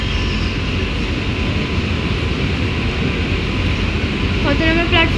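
An AC local train rolls into Bongaon station, a loud continuous rumble and hum of wheels and carriages filling the scene, with a brief voice near the end.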